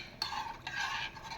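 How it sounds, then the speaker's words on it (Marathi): Kadhi being stirred in a pot makes a near, rhythmic scraping swish in three sweeping strokes, with a light clink at the end over faint simmering and no voices. "त्याच्यामुळे सतत कढी ढवळावी लागते"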